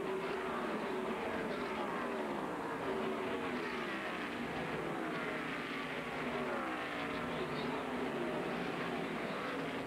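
Engines of NASCAR Winston Cup stock cars racing at the 1994 GM Goodwrench 400 make a continuous, steady roar through the corners, with overlapping engine tones sustained throughout at moderate loudness.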